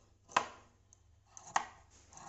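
Fabric being cut with scissors for puff sleeves on a blouse, two distinct sharp snips about a second apart, close and otherwise quiet.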